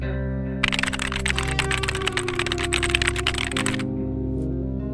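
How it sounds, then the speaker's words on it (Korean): Rapid, continuous typing on a computer keyboard, close and clear, running for several seconds over a low steady hum before stopping. "키보드 두드리는 소리가 들렸다"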